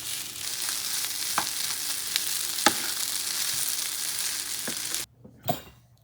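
Chicken fried rice being stir-fried in a pan gives a steady, loud sizzle with occasional clinks and scrapes, then drops away near the end before a brief final clatter.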